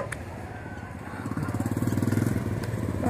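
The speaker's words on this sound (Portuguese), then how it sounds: "o cara tá andando de moto, ó" A motorcycle riding along a beach at Arraial do Cabo, its engine pulsing in a steady rapid chug that grows louder as it approaches, with wind and surf in the background.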